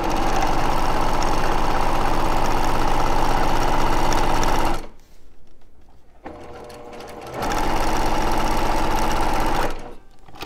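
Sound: sewing machine stitching quilt fabric with a 1/4 inch seam

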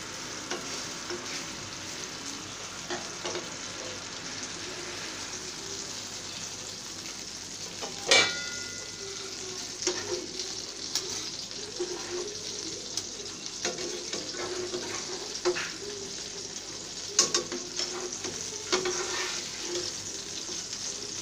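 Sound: eggplant frying in oil

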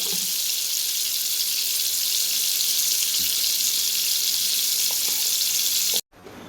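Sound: frying dried fish

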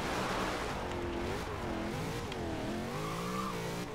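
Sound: car drifting on asphalt in the video game Forza Horizon 2

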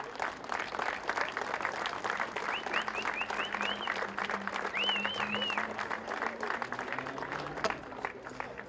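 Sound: applause

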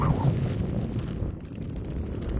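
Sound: wind

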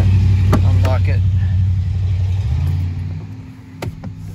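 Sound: Jaguar or Land Rover engine starting with a misfire

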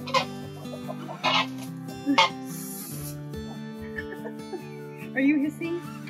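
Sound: chickens clucking on a homestead

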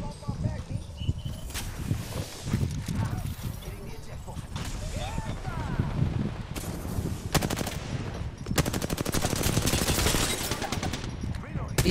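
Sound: gunfire in a video game

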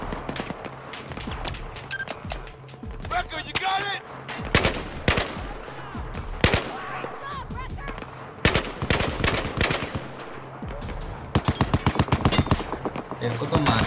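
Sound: machine gun fire in the video game Battlefield 4

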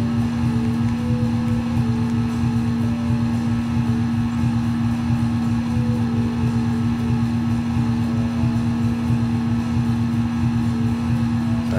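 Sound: tractor engine in video game Cattle and Crops

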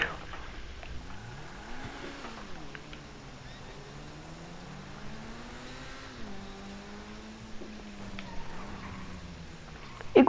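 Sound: car engine revving, from a video game

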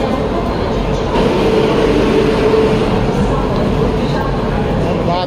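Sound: train departing from Hatia railway station platform

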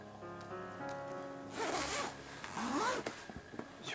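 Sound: yellow zipper on cushion cover being opened

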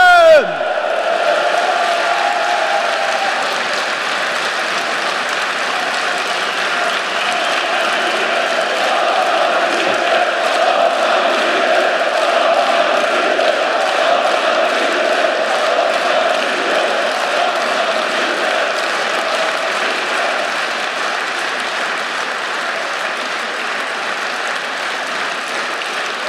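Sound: crowd applause and cheering

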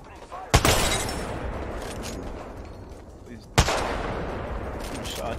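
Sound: gunfire in a video game

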